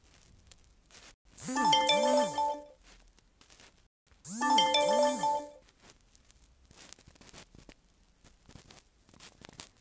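A WhatsApp message notification ringtone sounds twice: two bright chiming melodic phrases about two seconds apart, loud and close, followed by quieter background noise.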